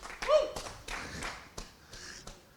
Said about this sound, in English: We got a officials clap there.